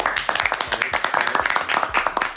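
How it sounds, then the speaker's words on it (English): Clapping for a newly graduated guest on a talk show, several people clapping close by in a quick uneven rhythm that runs the whole moment with no speech over it. "Let's give a clap to Mikey."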